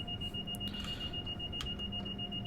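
In Train Sim World 3, a steady electronic warning tone sounds inside the cab of an Amtrak Acela, continuous and quiet over low rumbling cab noise, with no talking.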